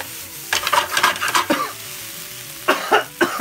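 Extremely spicy Peyang sobameshi being stir-fried in a pan, a low sizzle under a series of sharp coughs and throat clearing bursts that come in clusters, near and loud.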